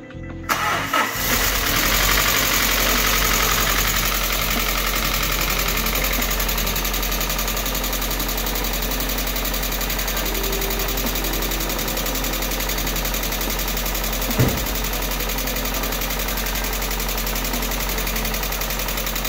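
Fiat Barchetta engine cranks briefly, catches and settles into a steady idle with a tappety valvetrain clatter running throughout, one small bump partway through, no voices.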